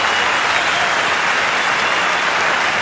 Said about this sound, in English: Great burst of applause.